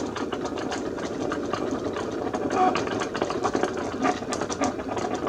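A Cricut cutting machine works through a sheet of cork, giving a steady, close mechanical whirr with rapid rattling pulses that runs the whole time without pause.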